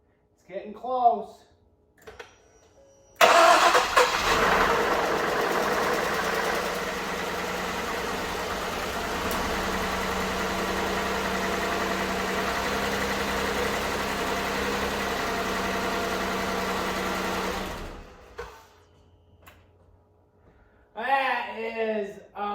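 A 2011 Ford Taurus 3.5L engine, swapped in to replace a seized one, cranks and catches, then idles loudly and steadily for about fifteen seconds before shutting off, with voices talking briefly before and after.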